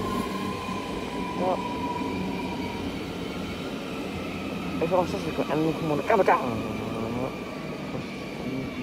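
Trains at Schiedam Centrum station in the Netherlands, a steady rumble of passing rail cars with sharp wheel squeals and clanks in the second half, while people talk nearby.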